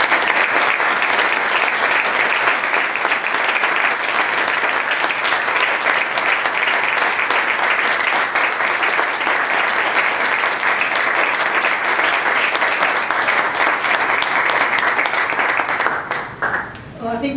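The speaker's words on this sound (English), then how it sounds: "level of applause says it all" Sustained, loud applause from a large audience after a talk on LGBTI human rights, dense and unbroken for about sixteen seconds before dropping off as a voice begins speaking.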